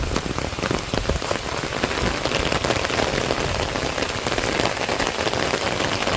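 Heavy rain pours down in a sudden afternoon shower, drumming loudly and steadily on surfaces with dense patter and no break, and no voices are heard.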